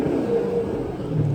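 A 2017 Chevrolet Camaro SS V8 in track mode gives a loud, steady low engine drone through a short burst, with a brief rise in pitch, close by and with no voices.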